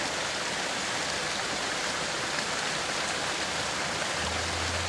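Garden well water from a hose rinses mud out of a homemade pond filter, a steady, dense rushing splash that stays constant and fairly loud throughout with no talking.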